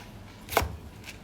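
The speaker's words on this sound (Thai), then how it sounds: "หั่นมะเขือยังไม่ขาดเลยนะ" A single sharp knife stroke cuts through eggplant on a board, one quiet, brief, close knock alone in a hushed kitchen.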